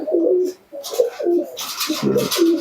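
Malbai pigeons coo in low, throaty rolling phrases, several repeated calls close by, with some rustling and faint background noise.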